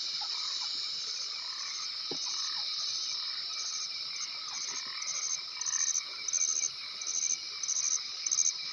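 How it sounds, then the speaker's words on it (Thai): Many frogs croak together in a thick night chorus mixed with the constant trill of crickets, with a few louder croaks rising near the end. "กบเยอะกบเขียด"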